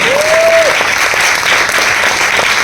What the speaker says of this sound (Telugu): ఈ చప్పట్లు మీకోసమే, నా కోసం కాదు.